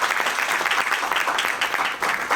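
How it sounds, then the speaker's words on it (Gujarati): Steady, enthusiastic applause fills the hall at a Bhavnagar Municipal Corporation seminar on city and environmental cleanliness, with a crowd clapping densely and evenly throughout the short burst. "આથી કમિશનર સાહેબને અમીબેન માટે એકવાર જોરદાર તાળીઓ થઈ છે."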